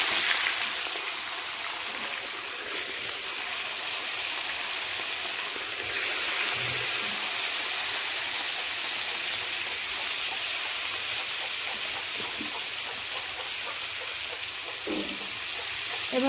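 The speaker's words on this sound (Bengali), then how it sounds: "তো তেলের মধ্যে এখন মাছগুলো ছেড়ে দেব।" Tilapia rubbed with salt and turmeric sizzles in hot oil, a steady, dense hiss that holds close and loud throughout with a few faint clinks and crackles.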